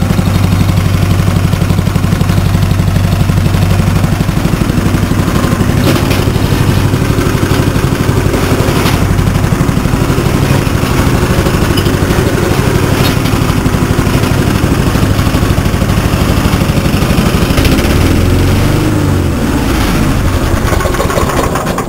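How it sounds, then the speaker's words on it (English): The engine of a McLane 214 reel lawn mower runs loud and close after a cold start, a steady rough idle with clattering and slight wavering of pitch across the whole stretch. "that's the cold start of the Mclane"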